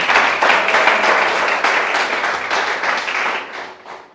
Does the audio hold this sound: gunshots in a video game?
no